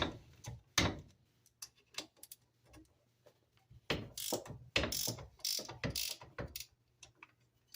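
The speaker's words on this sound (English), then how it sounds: "So I'm going to use my long handled gear wrench here. I'm going to break those loose." A long-handled ratcheting gear wrench works loose the strut bolts on a 1989-1994 Geo Metro, giving quick bursts of close metallic ratchet clicks, then pauses, then more ratcheting strokes.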